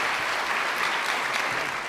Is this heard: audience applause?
yes